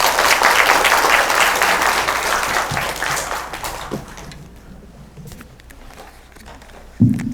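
An audience applauds after a science lecture on diagnosing and healing mental illness. Dense, loud clapping fills the first few seconds, then thins and fades to scattered claps, with a sharp knock near the end.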